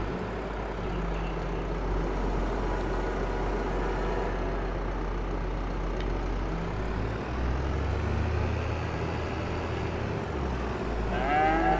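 Cow in a barn lowing in drawn-out moos over a constant low rumble of a running tractor engine, both close and fairly loud.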